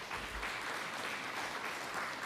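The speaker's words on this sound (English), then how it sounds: "Another round of applause for Ran and Chief Kelsey Jacko." An audience at an Indigenous cleaner energy forum claps steadily, a dense, even patter of many hands heard from within the room.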